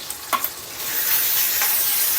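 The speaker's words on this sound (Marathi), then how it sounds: "थोडंसं तडतडायला आलं की त्यामध्ये आपण टाकणार आहोत चमचाभर इतकं मिरचीचा ठेचा" Green chili paste hits hot tempering oil with curry leaves, giving a loud, steady sizzle and crackle after a couple of brief stirring clinks, with no voices.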